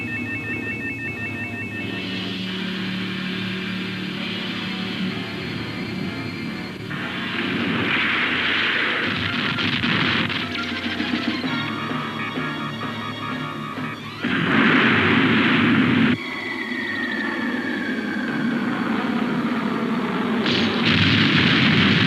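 Bursts of gunfire and booming explosions from firing at an enemy, loud and close, broken into shifting segments layered over a droning engine-like tone and synthetic electronic effects.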